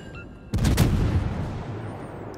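Naval cruiser gunfire in World of Warships, with a Pensacola cruiser and the Mayhem firing: one sudden loud boom about half a second in, then a heavy rumbling roar that slowly fades, with no voices.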